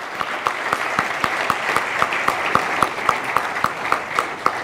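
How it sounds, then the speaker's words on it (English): Audience applause for the awardees at a large awards ceremony, a steady round of clapping with individual claps sharply audible in a regular rhythm, continuing evenly without voices. "May I request you all to please join me in extending a big round of applause one more time for all our awardees"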